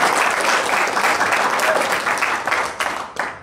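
Crowd applause at a religious study gathering, a burst of many hands clapping that thins out into a few scattered last claps.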